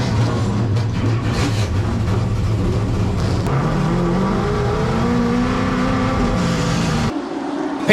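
Late model stock race cars firing up at Hickory Motor Speedway for a 2002 CARS Tour event, a loud dense roar of many engines with rising revving harmonics that drops off abruptly near the end.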